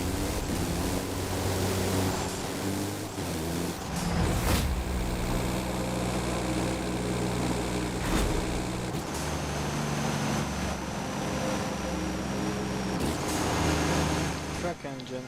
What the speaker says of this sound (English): Track engine actually sounds nice with the turbo and everything.